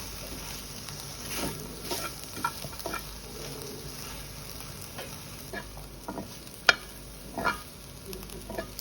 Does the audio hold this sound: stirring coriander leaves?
yes